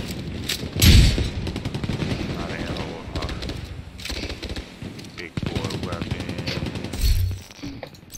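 Automatic gunfire in a video game firing at the player, with loud close bursts near the start and end over a busy backdrop of game noise, while a person talks through much of it.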